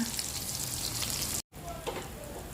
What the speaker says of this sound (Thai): พริกแกงค่ะ ผัดให้พอหอมนะคะ